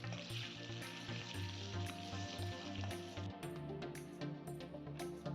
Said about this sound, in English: Fry them till golden brown.